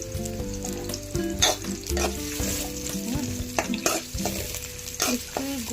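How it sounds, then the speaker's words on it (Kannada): Onions frying in hot oil until golden, with a steady crackling sizzle and repeated stirring scrapes in the pan throughout, close and even, with a low tonal hum running beneath. "ಆನಿಯನ್ ಹಾಕ್ಕೊಳ್ಳಿ. ಅದು ಗೋಲ್ಡನ್ ಕಲರ್ ಆಗೋದಂತ ಚೆನ್ನಾಗಿ ಫ್ರೈ ಮಾಡ್ಕೊಳ್ಳಿ."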